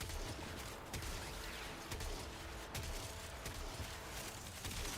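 Rapid gunfire from the Corinth shotgun in the Warframe video game, a dense burst of repeated blasts and mechanical clatter throughout, steady and loud with no speech.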